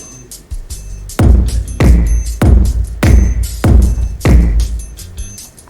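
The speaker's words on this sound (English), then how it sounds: "Okay, so now clap and snare." Sharp, punchy clap and snare hits land in a steady rhythm, five loud strikes with heavy processed body, no voices.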